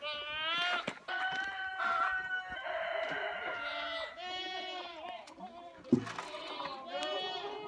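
Several goats bleat repeatedly, overlapping wavering cries near and far, with a brief knock partway through, as a feed bucket is shaken to call them.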